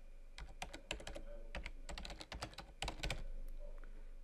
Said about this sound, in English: I'm going to go ahead and type in the information that it requires for